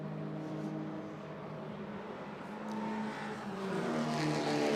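Race cars drone past on a circuit during a race, their engines a steady layered whine with pitch rising near the end as the field passes at moderate distance.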